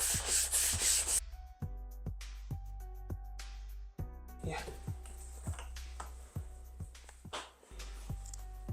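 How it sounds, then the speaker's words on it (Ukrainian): Short rhythmic rubbing strokes of a P180 abrasive sponge across burnt wood, repeated with brief pauses, close and fairly quiet. "Але спочатку ми повинні провести проміжне шліфування"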